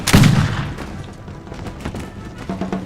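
Gunfire in a military video game set in Austria: a loud opening boom followed by a steady stream of rapid gunshot cracks and distant thuds, continuing throughout without voices.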